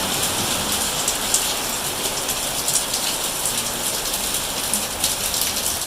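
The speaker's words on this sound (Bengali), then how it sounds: "সেই বৃষ্টি নামলো সকালের মতন।" Heavy rain falls in a steady, dense hiss with close patter on surfaces, loud and unbroken for the whole stretch.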